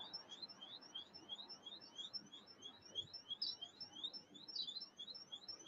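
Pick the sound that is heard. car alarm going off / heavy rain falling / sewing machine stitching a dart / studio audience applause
car alarm going off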